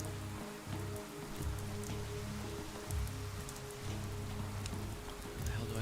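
Rain pours steadily in the video game Pathologic 3, a dense, even hiss of drops on surfaces with a pulsing low thud recurring underneath, without any voices.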